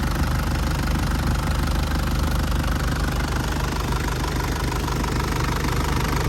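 An Isuzu Dragon Eye 3.0 SLX pickup with stock pump idles after a hot drive, its engine running steady and loud with a continuous rumbling knock throughout, close up and with no speech.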